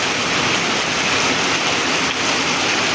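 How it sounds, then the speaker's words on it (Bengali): Heavy rain pours down at Mawna Bazar in a steady, dense hiss that stays loud and unbroken throughout, with no voices. "রবিবার প্রচুর বৃষ্টি।"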